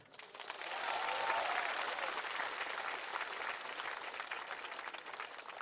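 A television show audience bursts into sustained applause for a singer, a broad crackling wash of clapping that swells quickly and holds steady, with a faint voice or cheer briefly audible.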